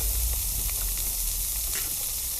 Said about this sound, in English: So in with the mirepoix